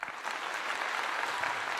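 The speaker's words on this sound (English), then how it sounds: "So I give him a clap." Steady applause from a crowd, continuous and fairly even throughout, heard alone without voices.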